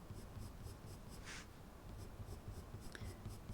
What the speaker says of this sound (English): And Irojiten is a slightly drier pencil.